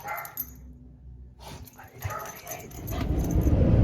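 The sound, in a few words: dog barking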